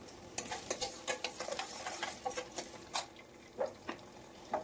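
Chopped onions and sliced green chilies fry in two tablespoons of hot oil, a faint crackling sizzle with many quick irregular pops and light stirring scrapes throughout, no voices.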